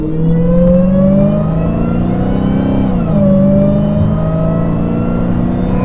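A Dodge Hellcat launches at full throttle on a 0-60 run, its loud engine note climbing steadily in pitch, dipping briefly at a gear shift near the middle, then rising again, close and continuous with no talking.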